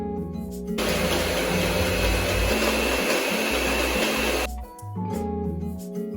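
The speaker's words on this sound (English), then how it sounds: "So keep whisking until beautiful peaks form." Dalgona coffee with sugar being whipped into foam by an electric whisk or mixer, a loud continuous motor whir lasting about four seconds, with music before and after.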